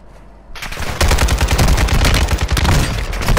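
A video game gun fires a dense, rapid run of loud, close shots that starts abruptly after a brief quiet moment and continues without pause, with no talking.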